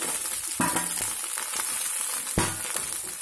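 Two eggs cracked into a hot pan with cooked rice for Chinese egg fried rice, hissing in a loud, steady sizzle with a couple of sharp knocks against the pan.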